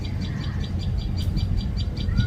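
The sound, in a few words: birds chirping in the morning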